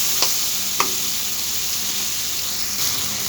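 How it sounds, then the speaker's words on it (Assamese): Spiced masala frying in hot oil for a soybean and potato curry, a steady broadband sizzle and hiss with a few sharp spatter pops, close and continuous with no talking. "মোৰ মছলাখিনি ফ্ৰাই কৰা হৈ গৈছে, ভালদৰে ভাজি ল'লোঁ, তেলটো ওলাই গৈছে"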